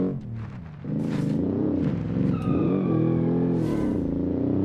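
Boxer 4 engine of a Starlet B4 car revving and accelerating in the BeamNG driving game, a loud, close, rising growl with gear changes and climbing pitch.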